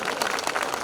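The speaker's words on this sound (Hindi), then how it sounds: "ताली बजा दो" Audience applause at a comedy and laughter gathering in Ujjain, a dense burst of clapping from a crowd that fills the whole short moment, fairly loud and steady.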